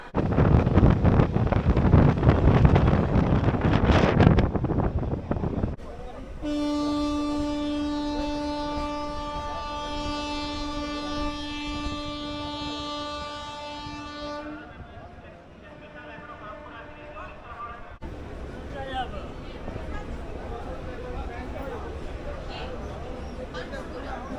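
On the Mecheda–Digha local train in India, loud wind rush and rumble give way to a long sustained horn blast of several seconds, then steady running noise continues.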